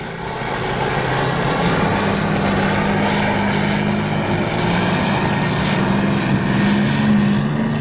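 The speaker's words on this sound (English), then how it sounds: "You'll find tractor pulls at county fairs" A loud, steady tractor engine roar at a tractor pull drones continuously without pause, heavy and sustained throughout.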